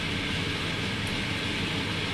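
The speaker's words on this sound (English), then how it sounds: "We've been in the train for about 4 hours now" Steady, loud broadband rumble and hiss inside a passenger train travelling through Romania, continuous and unchanging, with no voices.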